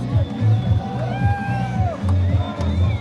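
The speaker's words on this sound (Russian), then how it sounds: "Громогласная «Сидаков чемпион» звучало несколько часов." A crowd greets Olympic champion Zaurbek Sidakov in North Ossetia, loudly chanting his name and 'champion' in a steady repeating rhythm of two-beat bursts, with cheering and babble in between.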